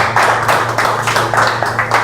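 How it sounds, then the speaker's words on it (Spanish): An audience breaks into applause: dense, loud, continuous clapping from many hands, close and steady for a couple of seconds, with no speech over it. "Un aplauso para el Patón también."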